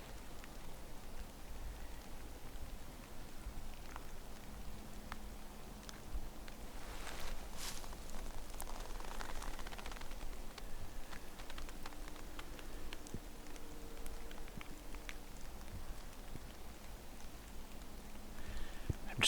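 Steady rain patters all around, with scattered drops tapping nearby surfaces and a few faint footsteps; no one speaks.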